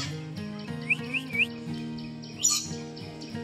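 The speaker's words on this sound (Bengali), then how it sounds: "সুন্দর করে ডাকছে সব সময় পাখির আওয়াজটা তোমরা শুনতেই পাচ্ছ" Yellow parrots in a wildlife sanctuary aviary give a quick run of three rising whistled chirps, then a louder harsh call, all over a constant background of bird chatter.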